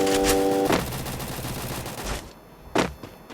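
Gunfire in the shooting game Free Fire, a short rattling burst and a few sharp shots over a busy game soundscape.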